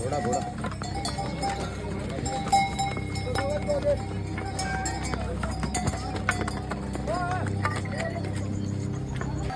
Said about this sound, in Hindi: दोनों साइड से घोड़े आ रहे हैं।